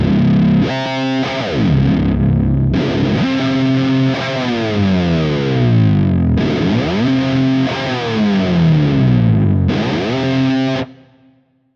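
Distorted electric guitar through a Fractal processor, with repeated dive bomb pitch effects where held chords swoop sharply downward and then return to normal pitch, four loud bursts separated by short gaps.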